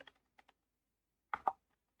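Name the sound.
typing a command on a computer keyboard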